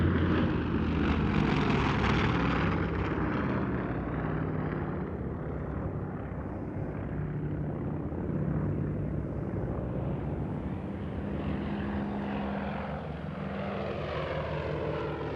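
A Tracker aircraft flies by at an RAAF airshow, its propeller engines droning loudly overhead in a long sweeping pass that gradually fades.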